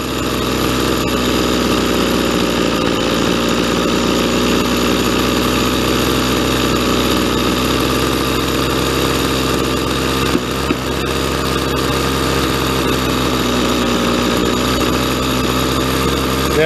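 A weed eater's small two-stroke engine runs steadily at a high idle while its carburetor is being adjusted, a loud, close, continuous buzz that barely changes across the whole stretch.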